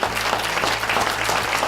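Audience at an awards dinner applauds steadily throughout, a dense wash of many hands clapping with a low hum beneath and no talk.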